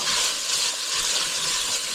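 Continuous bright sizzling hiss, steady and close, of chicken and wild rice soup frying in a hot Dutch oven.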